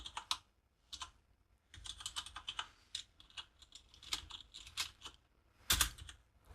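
Keystrokes on a computer keyboard while typing code, arriving in quick irregular bursts with short pauses, close and fairly soft, no voices.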